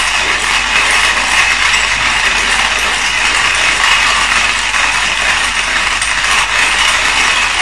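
A hand-cranked manual grinder crushes coffee beans with a steady, continuous gritty rasp and clicking burr sound, loud and close, running without pause throughout and with no talking.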